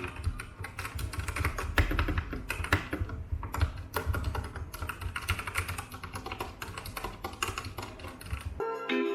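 Fast, continuous typing on a Ziyoulang K87 mechanical keyboard with red switches, keys clacking steadily up close and no pauses.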